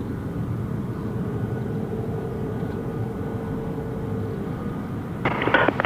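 A Jetstar Airbus A321neo airliner at Gold Coast Airport gives a steady distant engine rumble and whine, with a brief louder rattle near the end.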